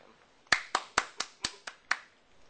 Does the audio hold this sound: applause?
yes